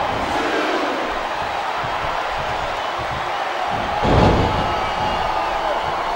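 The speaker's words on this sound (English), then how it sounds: "It sounds like this capacity crowd has something on their minds." A capacity wrestling-arena crowd in WWE Smackdown vs Raw 2008 keeps up a steady distant roar of cheering, with one brief, louder swell partway through.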